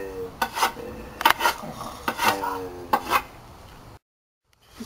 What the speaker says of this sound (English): I will now sharpen this big stick with my sword